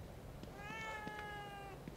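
A house cat in The Evil Within 2 gives one drawn-out, clear meow, close and fairly loud over a quiet game background.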